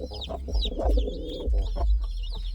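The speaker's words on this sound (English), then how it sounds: "That's the cock pigeon right there." Soft, repeated cooing and clucking calls from an Indian Fantail cock pigeon close by, a few short phrases with brief pauses between them.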